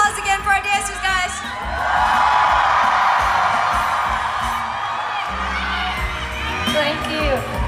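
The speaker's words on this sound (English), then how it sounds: "Please give a big round of applause again for our dancers" Concert crowd at a show in Toronto cheering, whooping and shouting for the dancers, a dense sustained roar of many voices filling the room and swelling after the first couple of seconds.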